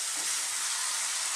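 A potato and bell pepper curry reduces in a pan, giving a steady, close, even sizzle for a brief moment with no voices.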